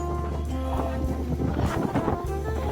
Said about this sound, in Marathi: जोराचा वारा सुटला आणि मस्त वाटतंय